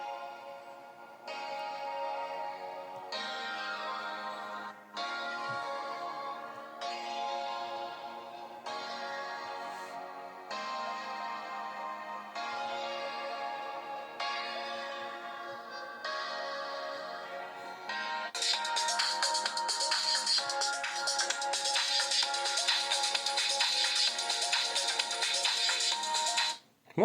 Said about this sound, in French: Avec une musique que j'ai pris sur YouTube.